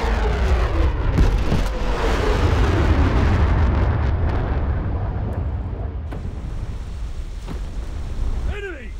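Torpedo explosion striking an enemy vessel in the submarine game War Thunder Mobile, with the HMS Valiant: a loud, sustained rumbling roar with scattered cracks, fading over several seconds with a final burst near the end.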